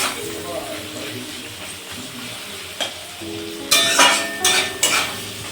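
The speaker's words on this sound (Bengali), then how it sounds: "এবার ডিম আর পেঁয়াজটা একসাথে এইভাবে কিন্তু ভাজা হবে" Egg and onion frying together in oil in a pan for egg chowmein: a low continuous sizzle, then a cluster of sharper scraping stirs and clatters near the end.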